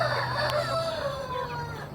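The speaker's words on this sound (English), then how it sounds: "Look at that little rooster right there." A small rooster crows once, close and fairly loud, a drawn-out descending call over steady background farmyard noise, with no talk.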